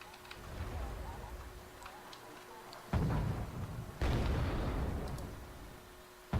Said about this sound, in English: Ah, it's just bombs.